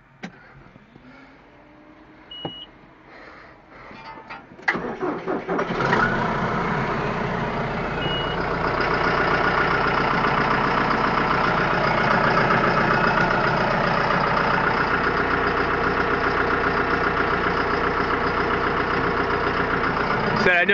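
A John Deere tractor cold starts outdoors: a few quiet clicks and cranking, then the engine catches with a loud rumble and settles into a steady, rough idle close by.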